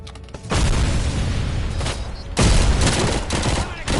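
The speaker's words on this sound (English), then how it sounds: "He threw another grenade, bro." Heavy grenade blasts go off in RoboCop: Rogue City, two loud broad bursts with rumbling gunfire-like crackle between them, close and dense.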